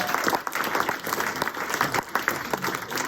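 A crowd at a stage show at MIT applauds a volunteer being called up: a steady, dense wash of many hands clapping at moderate volume for the whole stretch, with no voices on top.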